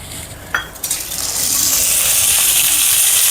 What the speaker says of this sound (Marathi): हे बघा, बघू शकता छान चटके लागत आहेत।